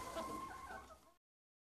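Chickens on a North Korean farm clucking in a brief, close burst of overlapping calls that stops abruptly after about a second.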